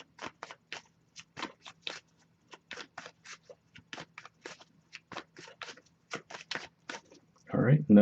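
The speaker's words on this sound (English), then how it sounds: "but I'll give it a few more shuffles." A deck of oracle cards is shuffled by hand, giving a close series of crisp, quick slaps and riffles in an uneven rhythm, ending in a brief louder rustle.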